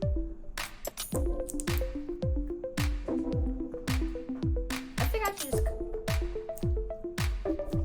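A homemade water-filled stress ball squeezed over and over in a steady rhythm, each close, wet squish followed by sloshing and squelching, with occasional faint clicks.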